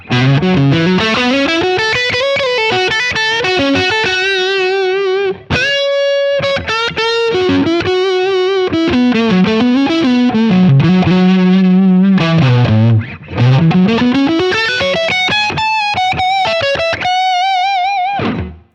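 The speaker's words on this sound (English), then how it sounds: "I'm gonna try some neck pickup sounds." Distorted electric guitar on the neck pickup playing a melodic lead line through a Friedman BE100 amp model, warm, rounded tone with chorus-like shimmer, loud and continuous with brief pauses.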